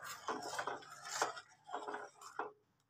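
A spoon stirs a sweet fig and khir mixture in a pan, producing soft scraping and clinking strokes in an uneven rhythm, close and fairly quiet.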